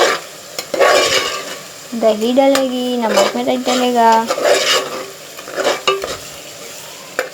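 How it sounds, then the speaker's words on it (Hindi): Ground onions frying in ghee in a pan for koftay, with steady sizzling and scraping stirs of a utensil against the pot, while someone talks over it. "ये मैंने 2 बड़े प्याज ग्राइंड करके और घी में कर रही हूँ"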